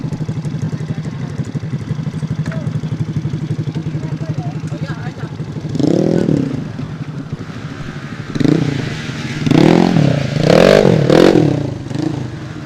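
Motorcycle engine revving hard while stuck in mud in the Alas Roban forest, Central Java, a steady near drone rising into repeated loud surging revs, with people shouting encouragement over it.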